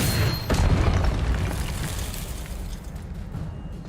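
A Confringo explosion spell bursts in the video game Hogwarts Legacy, a deep, loud boom that swells quickly then rumbles and fades over a few seconds.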